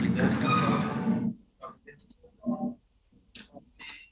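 After a burst of speech, a computer mouse clicks a few times, sharp, quiet and close, with short gaps between.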